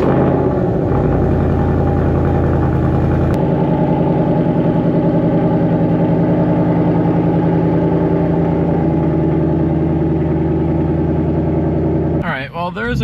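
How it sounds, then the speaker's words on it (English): A 2024 Ford Mustang Dark Horse engine drones steadily and loudly through its exhaust while driving on a highway, a continuous low rumble with shifting tone that ends in a brief burst of noise. "And here we go, some exhaust notes."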